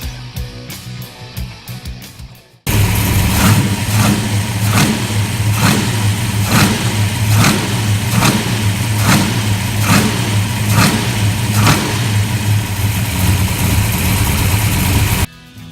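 A 408 small block V8 engine in a 1966 Chevelle revs loudly and close, with a rapid run of throttle blips over a steady rumbling idle, continuous and without speech.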